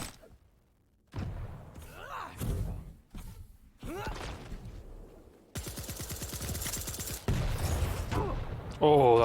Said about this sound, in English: that's a lovely rocket by Xron